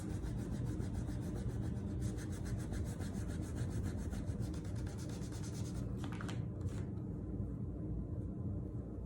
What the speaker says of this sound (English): I'm kind of getting it by just rubbing the paint off.